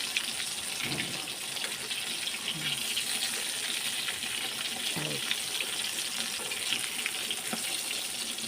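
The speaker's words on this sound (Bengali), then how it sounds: "এইদিকে আমি বসিয়ে দিয়েছি বেগুন ভাজা" Steady hiss and crackle of eggplant slices frying in a pan, continuous throughout with a few faint clinks, no talking.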